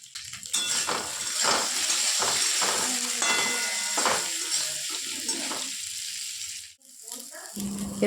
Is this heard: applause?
no